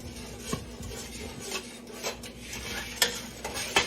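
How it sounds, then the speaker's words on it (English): Caramel cake icing is stirred in a pot, giving a steady soft scraping texture with occasional sharper clinks of the spoon against the side, fairly quiet and close, with no voices. "I'm going to keep stirring it"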